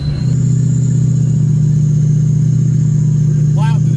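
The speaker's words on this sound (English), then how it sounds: "We're just plowing through these drifts." An off-road vehicle plows through mountain snow drifts in a blizzard, its engine giving a loud, steady low drone that holds throughout, with a brief high squeal near the end.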